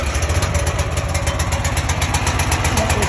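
A generator engine runs with the choke on, a loud, close, steady idle with a fast pulsing throb throughout and no talk.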